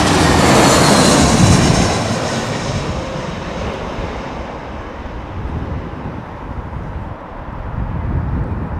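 Jet aircraft landing at London Heathrow Airport during a storm, a loud close roar of engines and rushing wind that fades and then swells again.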